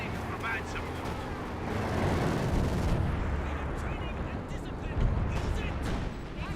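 Artillery barrage in the strategy game Company of Heroes 2, a rumbling wash of distant blasts and crackling impacts that swells and peaks around the middle, with a voice talking over it.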